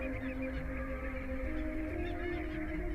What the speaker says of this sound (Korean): 조새들은 날씨가 사나워질 무렵이면 큰 소리로 울면서 무트로 날아들어